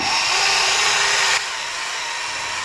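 A power buffer polishes scratches out of chrome with a loud, steady high whine that drops slightly in pitch and level partway through, running alone without talk.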